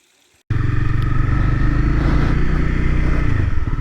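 A 2015 Honda CB300F motorcycle engine idles right beside the listener after a brief quiet start, a loud, steady, throbbing single-cylinder putter with a faint mechanical clatter throughout.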